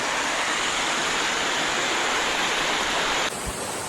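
Loud, continuous rush of flowing water during a downpour in hilly countryside fills the scene with a broad steady roar, close by, easing slightly in the final moment.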